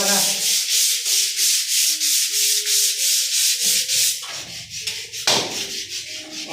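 Sandpaper rubbed by hand in steady, rhythmic back-and-forth strokes, loud and close, with a brief pause and a scrape of changed texture toward the end.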